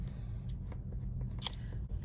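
Scissors snipping through fabric in a few quick, close cuts over a low background hum, with no talking.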